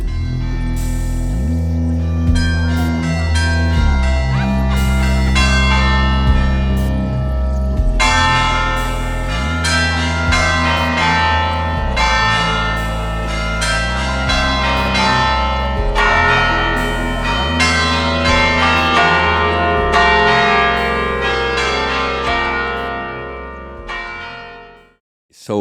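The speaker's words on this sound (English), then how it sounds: "we're gonna focus on recording some bells, which is also an iconic thing here in Braga" Church bells ring out at Bom Jesus in Braga, Portugal, a loud, dense peal of overlapping strikes with long resonant tails that fades away in the final seconds.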